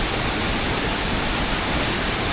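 A small waterfall in Sri Lankan tea country, heard as a dense, even roar of falling water, loud and close for a couple of seconds.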